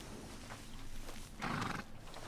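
A horse in Red Dead Redemption 2 gives a short neigh amid soft hoof and ambient game sounds, fairly quiet and brief.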